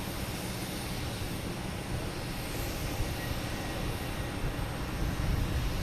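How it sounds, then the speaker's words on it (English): An American Airlines Embraer E175 regional jet at Boston Logan Airport gives off a steady, distant turbine roar. The broad, faint rushing noise holds level and swells a little near the end. "American Airlines E175 heading to Indianapolis"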